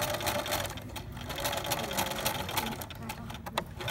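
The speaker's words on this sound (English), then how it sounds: "So, I sew down, backstitch again" Electric sewing machine stitching darts into fabric for a pencil pouch, a fast steady mechanical whir with a rapid needle rhythm running nearly the whole time, close and clear, with a voice speaking over it.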